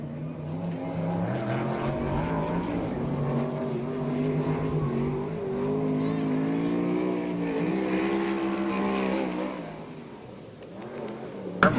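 A 410 sprint car screams around a dirt oval during a qualifying lap at Perris, California, its loud engine rising and falling in pitch through the straights and corners, then fading briefly before a sharp knock at the end.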